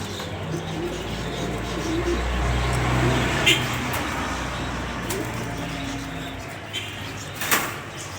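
Pigeons cooing nearby in a loft, soft low repeated coos over a steady background rustle, with a few short clunks and knocks.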